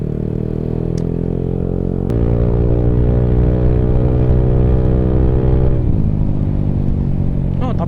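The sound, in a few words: Yamaha Aerox scooter engine while riding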